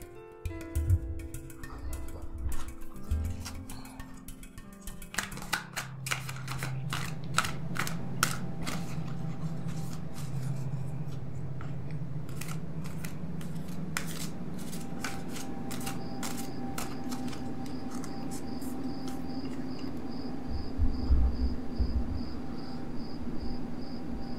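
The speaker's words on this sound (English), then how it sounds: "So I'm going to shuffle my cards" Tarot cards are riffled and shuffled in quick crackling bursts, repeated several times, close up against a quiet background with a faint steady tone.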